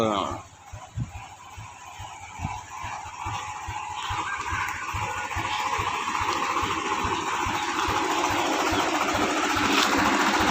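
A tractor engine chugs steadily while pulling a five-bottom plough through a village field, its rhythmic pulsing growing louder and busier over time, with a voice speaking over it.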